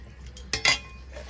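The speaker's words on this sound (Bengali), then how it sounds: "ভালো করে নেড়ে চেড়ে মিশিয়ে দেব।" A metal spoon clinks twice against a cooking pot while boiled elephant foot yam is stirred. The two short, close knocks stand out over a faint background hum.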